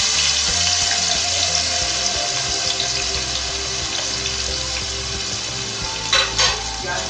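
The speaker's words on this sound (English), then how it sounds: "We have to fry these onions till they become golden brown." Finely chopped onions fry on a medium flame, giving a steady, close hiss and crackle with faint clinks near the end.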